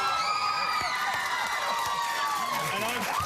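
A studio audience of girls cheers and squeals loudly and continuously, high shrieks layered over a dense roar of crowd noise, with a voice talking over it.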